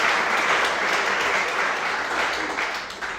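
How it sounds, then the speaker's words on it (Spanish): Church congregation at an evangelical service breaking into loud, continuous applause, a dense wash of clapping that slowly eases off over a few seconds. "Denle un aplauso al Señor, que lo veo muy serio."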